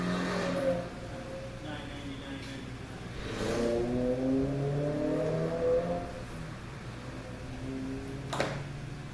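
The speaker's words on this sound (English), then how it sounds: "Sounds like now that guy's fucking slipping the clutch." A car engine revs in rising and falling sweeps while the driver slips the clutch, heard at moderate distance with voices talking over it and a sharp knock near the end.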